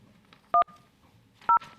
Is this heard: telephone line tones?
yes